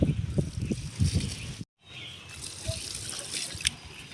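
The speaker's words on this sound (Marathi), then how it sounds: "हां थोडंसं पाणी घालून जाऊया" Water poured onto a potted plant, a close gurgling trickle with a short break midway before the flow resumes, fairly soft throughout.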